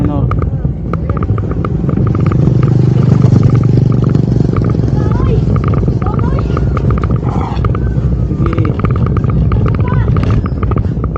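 A Rusi Ebike EV-1 500 W electric bike runs steadily outdoors, its motor whine buried in constant rushing wind and road noise, with people talking over it throughout.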